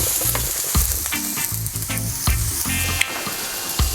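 Pumpkin pieces sizzle steadily in hot oil in a pan, a close, continuous frying hiss with occasional stirring clicks and scrapes, no voices.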